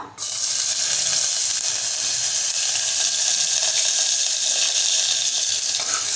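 Finely chopped medium onion dropped into hot oil with bay leaves for sprouted chana usal, a sudden loud burst of sizzling that settles into a dense, steady hiss lasting several seconds, close up.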